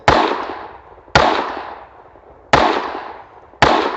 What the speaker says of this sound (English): shooting 300 Blackout